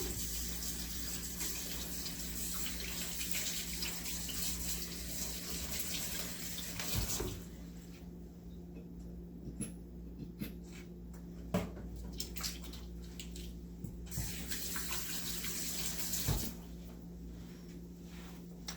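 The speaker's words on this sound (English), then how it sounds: "So, let me wash my hands." Tap water runs steadily into a kitchen sink while hands are washed beneath it, a continuous broadband gush broken by small splashes and clatters partway through.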